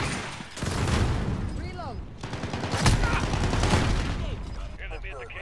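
Gunfire during a Hunter Mk2 video game match, with bursts of rapid shots and booms that come and go under continuous talk from a player, dense and loud.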